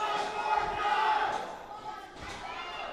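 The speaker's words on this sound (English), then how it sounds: "Crowd calling for another chop to Nix Wilde." Wrestling crowd at an 880 Wrestling Thursday Night Fights show chants and shouts for another chop, a loud, sustained roar of many voices with rhythmic swells, a few thuds under it.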